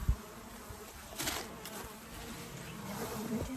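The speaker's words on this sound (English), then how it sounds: "So now I've got these bees over here to take care of." Honey bees buzz steadily around a 24-frame Layens horizontal hive holding a swarm colony, a continuous droning hum with a few louder passes near the microphone.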